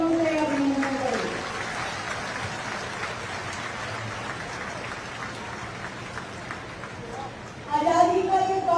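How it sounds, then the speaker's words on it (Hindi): A rain-soaked crowd at an August 15 Independence Day flag-hoisting claps loudly for soldiers, a dense, steady roar of hands lasting several seconds. A voice speaks at the start and again as the clapping ends. "मैं चाहूंगी हमारे इन वीर जवानों के लिए एक बार जोरदार तालियों से अभिनंदन करें।"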